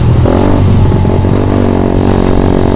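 A 2014 facelift Suzuki Satria FU motorcycle being ridden in strong wind gives a loud, close, continuous engine drone with steady harmonics under heavy wind rumble, with no voices.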